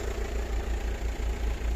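A car engine that has stood unused for a year and a half runs on its own, a steady, loud, rumbling idle with a slightly uneven low-pitched knock throughout.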